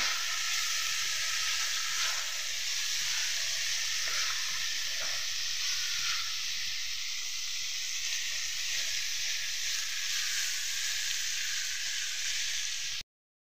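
Turmeric, dried chilli powder and coriander powder stirred into hot oil in a village cooking pot, giving a steady, even sizzling hiss with faint scraping from the stirring throughout.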